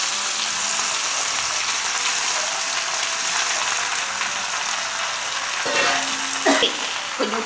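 Baby kailan greens hitting a hot pan and frying, a steady hiss and sizzle throughout with a few stirring clinks and scrapes near the end.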